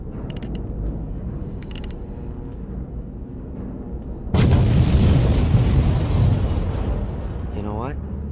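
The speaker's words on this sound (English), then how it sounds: "Everything's ready for the explosion." A stick of dynamite wired to a detonator goes off in the adventure game Black Mirror 2, a single loud, close blast that bursts in sharply and rumbles on for several seconds over a steady low background.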